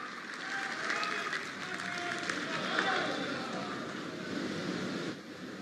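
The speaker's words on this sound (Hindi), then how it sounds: "जोरदार तालियों से हम सब इनका अभिनंदन करें" A large audience at the Bihar Assembly centenary ceremony in Patna claps in a loud, sustained wash of applause that swells and holds for several seconds, with a voice faintly heard over it.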